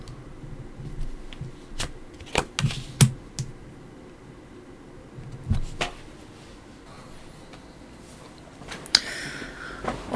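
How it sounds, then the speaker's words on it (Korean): Tarot cards being shuffled and handled, a series of close, crisp riffling and tapping bursts with quiet pauses between them, no talking. "타로 카드 열어볼게요."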